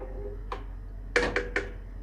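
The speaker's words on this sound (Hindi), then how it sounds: "एक दफ़ा चावलों को अच्छे से हिला लें।" Rice for degi pulao biryani stirred in a metal cooking pot: one brief scrape, then three quick scraping strokes, close and moderately loud over a low steady hum.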